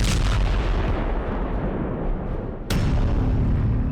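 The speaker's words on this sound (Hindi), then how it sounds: "धमाका ऐसा जिससे पूरा रूस दहल गया" A powerful explosion booms and rumbles, followed by a second sharp blast near the end, loud and close.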